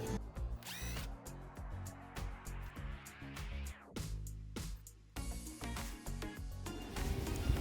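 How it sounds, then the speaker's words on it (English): A power drill unscrews hanging hooks from wooden posts, with bursts of whirring motor, a rising whine as a screw backs out, and ratcheting clicks between runs, fairly close. "I am going to go ahead and unscrew these to get these hanging hooks off of here"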